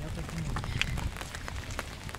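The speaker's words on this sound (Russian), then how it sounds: "Просто давайте послушаем звуки дождя и расслабимся." Rain falls in a soft, steady patter, heard close by from inside a car, with faint voices murmuring underneath.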